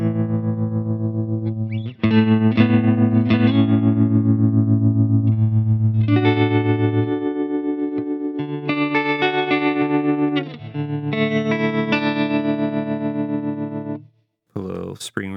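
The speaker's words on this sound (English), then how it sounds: "Here's a tremolo I use." Electric guitar played through a tremolo pedal on a big pedalboard, sustained chords and notes pulsing with rhythmic volume wobble, loud and close with some distortion-like grit, ending in a brief pause and squeal.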